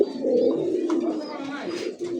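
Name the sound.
male pigeon cooing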